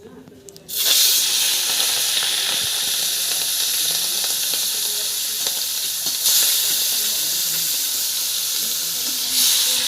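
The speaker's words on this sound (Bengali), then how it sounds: "এবার চিংড়িটাকে ফ্রাই করে নেব" Prawns hit hot oil for a malai curry, breaking into a loud, continuous sizzle after a brief quiet start that holds steady to the end.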